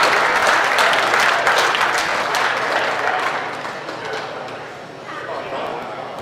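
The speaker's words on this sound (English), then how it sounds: "let's have a big round of applause again for the crier of the silo, Bruce Rock" An outdoor crowd applauds at a dog auction in Bruce Rock, thick steady clapping that gradually thins and softens toward the end as voices emerge.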